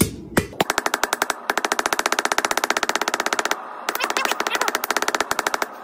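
Hot steel is forged into a paper towel holder, and a power hammer strikes it in rapid, evenly spaced blows. Long loud bursts of metallic pounding run close by, with a brief pause partway through.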